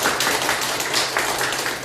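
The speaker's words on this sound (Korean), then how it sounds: "박수 한번 크게 칠까요?" A church congregation clapping loudly together during a Sunday Lent service, a dense, steady wash of many hands with no gaps, filling the room.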